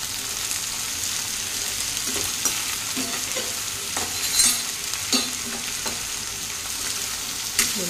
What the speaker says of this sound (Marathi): हे चांगलं मिक्स करून घ्यायचं तेलामध्ये।